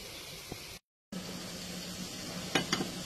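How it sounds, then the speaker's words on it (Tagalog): Food sizzles steadily in a frying pan during home dinner cooking, a continuous hiss broken by a brief dropout, with a couple of sharp scraping clinks of a utensil stirring near the end. "Pag medyo lumambot na siya, pwede nang ihalo para pantay."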